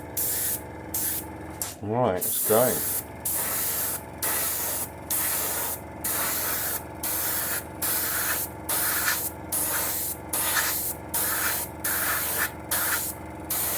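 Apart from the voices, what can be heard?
airbrush spraying paint on a Panther tank model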